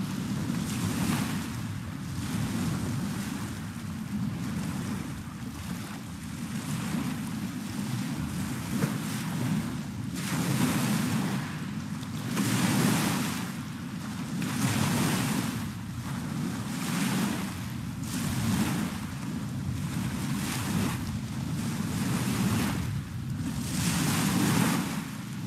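Ocean waves crashing on a shore, a deep continuous surf wash that swells and recedes in slow regular surges every few seconds, with wind noise over the microphone.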